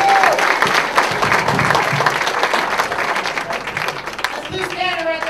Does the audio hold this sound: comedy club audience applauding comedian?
yes